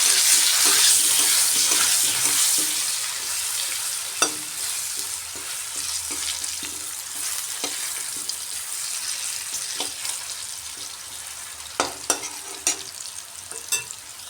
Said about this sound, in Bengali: সামান্য হলুদটা লবণ দিয়ে আলুগুলোকে একটু লাল করে ভাজছি